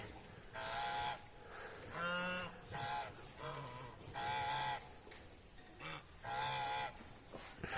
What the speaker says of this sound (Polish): O, idą gęsi.